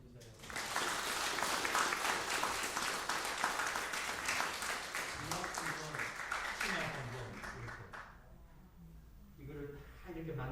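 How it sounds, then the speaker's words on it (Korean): A church congregation applauds at a Sunday service as a presentation is made, with dense, sustained clapping for about eight seconds before it thins out and voices begin talking. "여러분 한번 박수 한번 해주세요"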